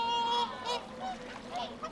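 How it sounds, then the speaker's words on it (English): Whooper swans give deep, trumpeting honking calls outdoors, several overlapping honks in quick succession, moderately loud with a wild, open-air quality. "The birds gained their name from their deep honking call that fills the air."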